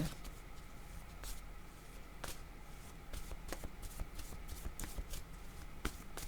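Tarot cards being shuffled by hand nearby, a steady run of soft riffling flicks and sharper snaps at irregular intervals, quiet and close with no talk.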